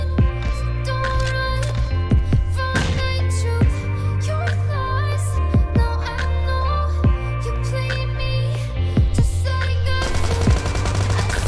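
Video game team deathmatch gunfire, with rapid automatic bursts and single shots crackling close and loud over a steady low game hum, and a denser volley near the end.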